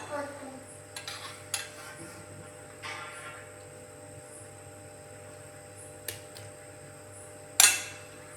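Vermicelli being stirred in a pan while making puttu: sparse light metallic clinks and scrapes of a utensil, quiet and close, with a sharper scrape near the end.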